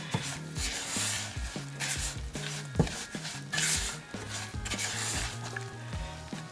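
Semolina roasting for halwa in a pan, stirred with a spoon that taps and scrapes the metal in a steady rhythm under a faint sizzle, close up with no talking.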